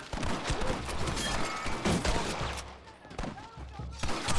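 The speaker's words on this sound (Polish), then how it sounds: "A tu mi strzela!" Gunfire in the Red Dead Redemption video game, a dense run of shots and fusillade bursts over a busy game soundtrack, loud and close throughout.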